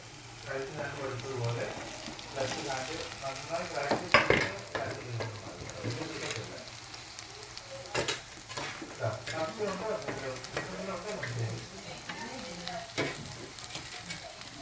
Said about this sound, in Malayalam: നല്ലതുപോലെ വഴറ്റിയെടുക്കാം